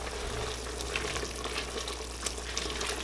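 Steady bubbling and faint crackling hiss of water boiling in a pot for vegetable soup, quiet and continuous with small pops scattered throughout, no voices.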